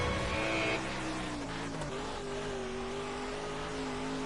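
A race car engine in a racing video game screams at full throttle, its loud, steady, rising whine holding and climbing in pitch through the corner with no voices.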